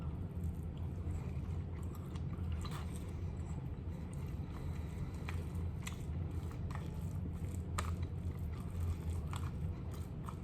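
Close-up chewing of a stringy, chewy MRE beef goulash with brown rice and vegetables: soft repeated bites and mastication sounds, moist and faintly crunchy, with no talk.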